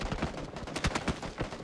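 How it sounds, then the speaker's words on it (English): Distant gunfire in PlayerUnknown's Battlegrounds, a quick run of muffled pops in an uneven rhythm, fairly faint, with no talk over it. "Can you shoot each other somewhere else, please?"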